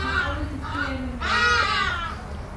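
Birds call in harsh, cawing bursts from the open sky outdoors, three separate calls at moderate distance with faint background voices.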